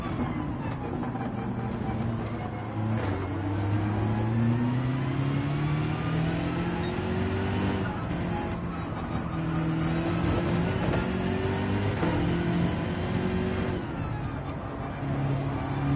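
Car engine in Gran Turismo 7, a sustained mid-pitched drone rising and falling through gear changes, loud and continuous with no talk.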